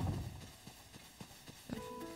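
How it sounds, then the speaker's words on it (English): Horse hooves clip-clop in the video game Zelda: Tears of the Kingdom, a quiet, regular series of about six soft hoof falls over a faint game background. "Look at my horse friend."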